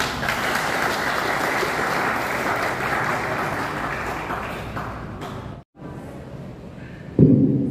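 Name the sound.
applause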